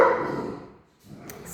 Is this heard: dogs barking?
yes